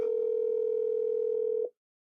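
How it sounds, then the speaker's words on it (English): A steady telephone call tone hums at moderate level, one continuous pitch for over a second and a half, then stops abruptly into silence. "Answer your phone, Spanner."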